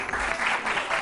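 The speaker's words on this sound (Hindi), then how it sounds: "पहले तो इनके लिए तालियां होनी चाहिए" An audience applauds a teacher in a TV studio, a dense, steady wash of clapping that fills the whole moment with no talk over it.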